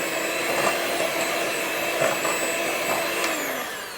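A steady motorized whir rises from a mixer working peanut butter and brown sweetener together in a bowl, the tone shifting slightly as the beaters meet the thick mixture, close and continuous with no voices.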